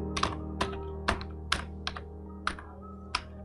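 Computer keyboard typing up close, about eight distinct key clacks in an irregular rhythm over a steady low hum, with no talk.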